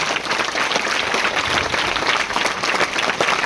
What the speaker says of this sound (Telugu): ఆయనకు ఒక్కసారి గట్టిగా అందరం చప్పట్లు కొడదాం